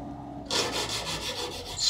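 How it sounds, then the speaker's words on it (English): Fine sandpaper rubbing over the edges of a wooden guitar body, a close, steady rasping swish in repeated back-and-forth strokes after a brief quiet start. "slightly with some fine sandpaper."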